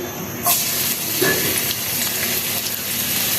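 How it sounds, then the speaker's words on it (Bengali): Chopped onion hits hot oil in a kadai (wok-style pan) for mustard hilsa, bursting into a loud, steady sizzle and crackle that holds close up to the end. "তেল গরম হয়ে গেছে এখন দিচ্ছি পেঁয়াজ কুচি"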